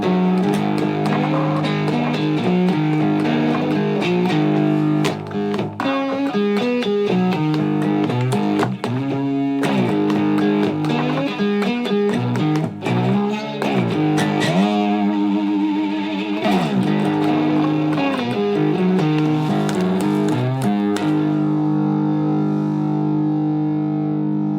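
Three-string cigar box guitar from Dead Bod Guitars, played with a dense, gritty, distorted tone, loud and continuous with driving riffs and ringing sustained notes, no voices.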